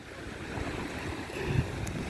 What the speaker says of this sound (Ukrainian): Море спокійне, чайки плавають.